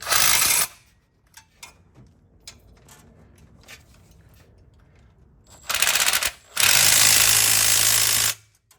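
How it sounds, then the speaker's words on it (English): A small impact wrench snugs up bolts on a truck's new catalytic converter. It gives a short rattling burst, then quiet clinks of tools, then two more loud bursts close by, with no talk. "So we're gonna snug all these up with the little baby impact here."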